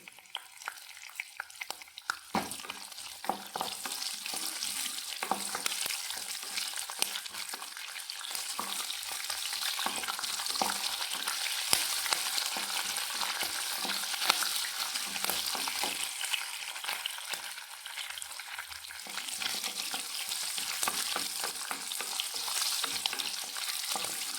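Urad dal, peanuts, cashews and green chili frying in hot oil for a curry-leaf rice, a loud, dense crackling sizzle sustained for the whole stretch with faint stirring scrapes and no speech.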